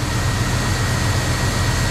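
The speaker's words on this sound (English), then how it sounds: "This is the first time this engine has ran in 10 years." A car engine starting for the first time in over ten years, with vacuum leaks, runs as a steady, loud, continuous low rumble close by with no talk.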